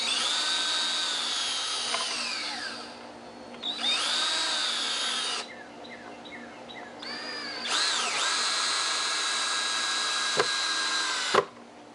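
A power drill drives long screws into a plywood sawhorse, running in several sustained whirring bursts with rising and falling pitch, short pauses between them, and a couple of sharp clicks near the end; close and loud with no talking.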